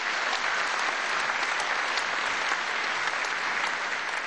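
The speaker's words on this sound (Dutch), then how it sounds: "onder applaus van het veld wordt gedragen" Steady crowd applause at a korfball match as a player is carried off the field, a dense continuous clapping that holds at an even level throughout.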